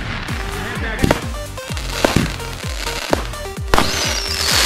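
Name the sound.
early fireworks explosion in the video game GTA V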